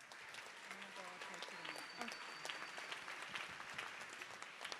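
An audience at a People's Summit for Democracy applauds after the final declaration. Steady, moderately distant clapping with scattered louder claps runs throughout, with voices audible beneath it.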